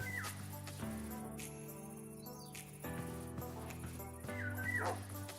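A dog in a Minecraft-style block-building game lets out a few soft whimpers and yips over steady game music, the small cries rising and falling across the short stretch.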